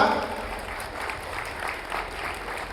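A crowd claps at a political gathering of Telugu Desam supporters. The applause is steady and moderate, fairly near, and swells slightly in waves across the clip with no clear talk over it.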